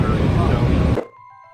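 Airplane cabin in Detroit just after landing, a loud steady engine and cabin roar that cuts off abruptly after a second, leaving a faint quiet hum.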